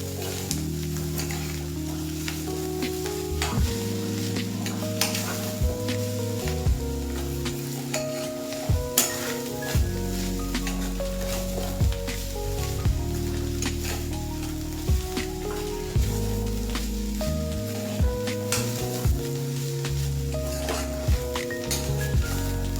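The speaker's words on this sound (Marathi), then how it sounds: "पण अशी तुपात चांगली हिरवी मिरची टाकलेली परतली गेली पाहिजे." Green chillies sautéing in hot ghee for spicy mustard rice, a steady close sizzle under repeated scraping and stirring strokes of a spoon against the pan, with no talking.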